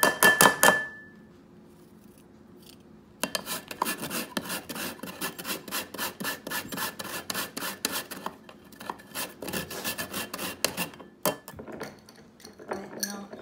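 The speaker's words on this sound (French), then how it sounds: "On va râper notre gingembre un peu." Fresh ginger is rasped on a metal grater for a gyoza dipping sauce, a close, rhythmic scraping of quick repeated strokes after a brief clink and a pause, ending with a few scattered scrapes.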